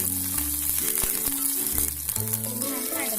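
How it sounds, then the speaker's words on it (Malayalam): Mustard seeds spluttering in hot oil with dried red chillies, ginger and curry leaves for a Kerala cherry pickle, a loud close sizzle with crackling pops throughout and musical tones running underneath. "നമ്മുടെ കടുക് പൊട്ടി തുടങ്ങിയിട്ടുണ്ട്"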